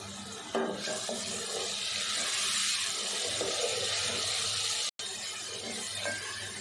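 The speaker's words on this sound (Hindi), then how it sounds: "थोड़ा सा पानी डालेंगे।" Water runs and splashes steadily into a pot of spiced moong dal and ridge gourd amid faint sizzling, with a brief cut near the end.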